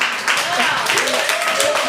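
Applause breaks out during a legislative committee meeting on rules and judiciary, with a room full of hands clapping steadily. People talk over the clapping.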